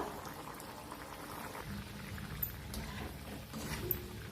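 A Maharashtrian snack fries in hot oil in a pan on a gas stove, giving a steady, moderately quiet bubbling sizzle with faint crackles throughout and no talking.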